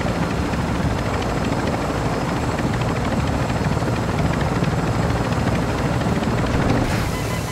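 Helicopter rotor thudding steadily in a video game, a loud continuous drone of blades and engine that holds through the whole stretch without letup.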